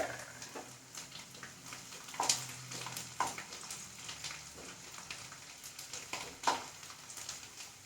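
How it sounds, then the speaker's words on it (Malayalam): Garlic fries in corn oil for a Kerala-style chicken perattu, giving a soft, close crackle of scattered pops and spits over a low, steady hiss. "വെളുത്തുള്ളി മൂത്ത് വരട്ടെ"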